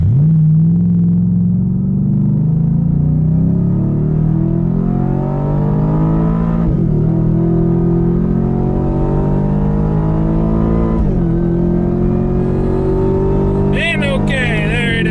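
A Ford Raptor R pickup towing a 7,000-pound trailer accelerates hard from a standstill, its engine rumbling loud and close, rising steadily through gear changes with brief dips between shifts.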